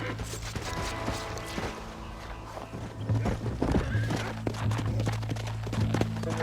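Horse hooves clip-clopping in Red Dead Redemption, a steady trotting rhythm of soft thuds with an occasional whinny, set against a low droning game soundscape with creaking tack.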